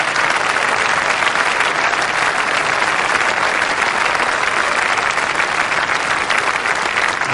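A cricket crowd at Canterbury during the 1999 World Cup match between England and Kenya applauds in a loud, sustained burst of dense clapping that carries evenly from start to finish.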